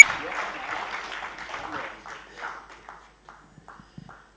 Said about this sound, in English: I think he deserves the best applause today.